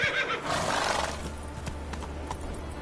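A horse in a PS4 video game neighs loudly at the start, then its hooves clip-clop in a quick galloping rhythm under the game's background sound, with no talk.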